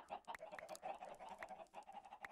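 Minecraft chickens in a farm coop cluck repeatedly in short, close, overlapping bursts with no talking over them.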